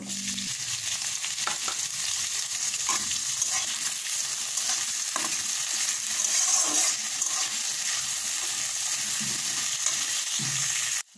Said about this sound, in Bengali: আমি দেখো সামান্য তেল দিলাম, তারপরে পেঁয়াজটাকে হালকা লাল করে নেব।